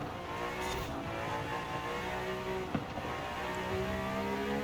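A race car in Forza Horizon lapping a hard section of a Nürburgring replica circuit, its steady engine drone running throughout with a brief sharp tire squeal near the middle.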